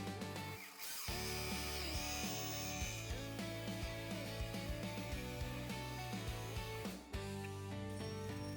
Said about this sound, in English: Had to switch to the corded drill